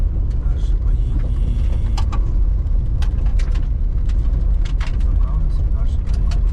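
Toyota Land Cruiser 80 driving on the road, a steady loud engine and road rumble from inside the vehicle, with scattered clicks and knocks and a voice speaking over it.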